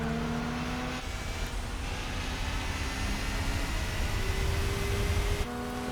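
A Chrysler PT Cruiser's engine drones steadily in Gran Turismo 4, a sustained mid-revving hum with shifting pitch and one brief break in the tone, fairly quiet and alone.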